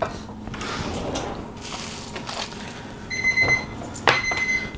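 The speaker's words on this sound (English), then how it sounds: "All right, that's our 1 minute timer." A one-minute kitchen timer going off in a home kitchen, a series of shrill electronic beeps starting partway through after some clatter of plates and handling noise.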